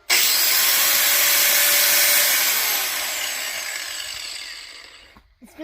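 Cheap 10,000 RPM angle grinder with a thumb throttle spinning freely, a loud, high, steady whine that holds for a few seconds and then winds down and fades as it coasts to a stop.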